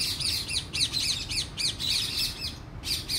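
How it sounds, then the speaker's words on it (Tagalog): Several birds chirp and tweet in quick repeated bursts, bright and fairly close, with a soft background hum beneath. "Daming ibon dito pag umaga."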